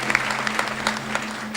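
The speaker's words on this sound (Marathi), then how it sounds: "म्हणून आजच्या अन्नदात्यांना पुन्हा एकदा मनापासून टाळ्या वाजून आशीर्वाद द्यायच्यात." An audience at a religious discourse claps together, a brief burst of dense applause with no speech over it.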